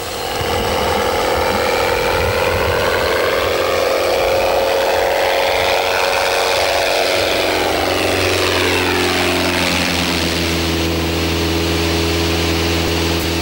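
A light propeller plane engine drones steadily and loudly throughout, its pitch sweeping and shifting as the aircraft maneuvers in flight.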